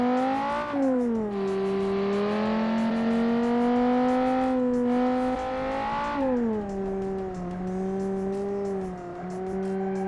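Car tires spinning as a car accelerates in a racing game power-to-weight challenge: a steady loud engine whine with pitch that rises and drops through gear changes, constant and close, without talk.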